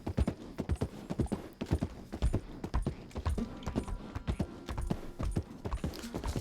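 Horse hooves in Red Dead Redemption 2 clop in a quick, steady rhythm of close, distinct thuds on the ground, continuing for several seconds without speech.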